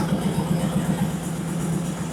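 A Ford F350 with a V10 engine idles with the exhaust removed, giving a steady, loud, close-up low rumble with an even pulsing beat and no talk.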